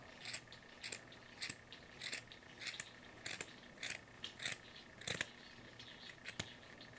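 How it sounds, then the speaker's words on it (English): Scissors snipping through fabric for a cowl, a steady series of about a dozen crisp, close cuts at an even rhythm, with no talking. "I'm gonna take my scissors and cut right along"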